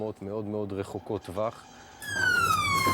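An alarm siren sounds aboard an Israeli warship during a drill, rising loudly with a sliding tone after a French-speaking narrator talks over the opening.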